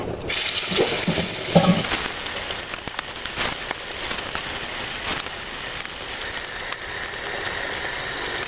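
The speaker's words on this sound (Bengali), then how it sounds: "আমি এখন এইগুলো সবগুলো ভেজে নেব বিসমিল্লা করে দিয়ে দিলাম কড়াইতে" Potol (pointed gourd) kofta balls frying in hot oil in a kadai, a steady loud crackling sizzle with sharper pops early on, continuing without a break and with no voices.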